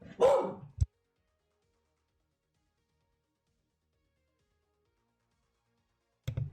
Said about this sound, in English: Dog probably heard somebody outside.